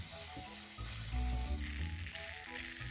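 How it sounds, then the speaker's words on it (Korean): Garlic and cherry tomatoes sautéing in olive oil in a pot, a constant soft sizzle and crackle with faint low background hum, no voices. "냄비에 올리브유 두르고 마늘 살짝 볶다가 방울토마토랑 소금 한 티스푼 또는 엔초비 페이스트 한 티스푼 넣고 살짝 더 볶아요"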